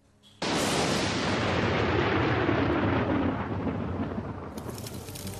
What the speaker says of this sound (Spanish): Los rayos caen sobre Sudáfrica.